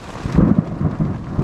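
Hailstorm with heavy rain and thunder heard from inside a tent, a loud low rumble of thunder rolling under a steady wash of rain and pelting hail, with no voices.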